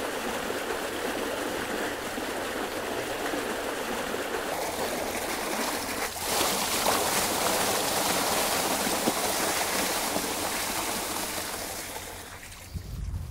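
Water pours steadily into irrigation ditches through a system of collectors, a continuous close rushing flow that grows louder midway and fades near the end.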